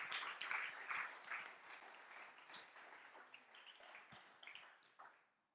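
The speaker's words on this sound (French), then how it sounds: "Bon, on peut les applaudir alors. Bravo." A demo-day audience at a coding bootcamp in Marseille gives a fairly quiet round of applause that swells early, then thins out and fades to silence at the end.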